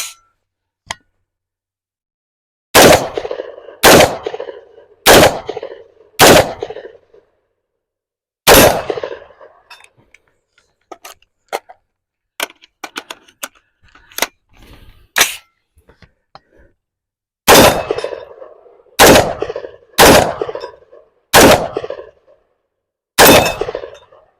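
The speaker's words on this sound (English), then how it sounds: "we're just going to do some shooting" AR-15 rifle from a budget PSA build firing at steel targets outdoors, loud sharp shots in spaced groups of four or five, with a scatter of faint clinks and small knocks in between. No voices.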